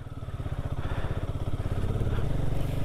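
A motorcycle engine chugs steadily and loudly while the bike rides along a mountain road between Manali and Chandra Tal in Spiti Valley, its rhythmic pulsing firing continuous and close throughout.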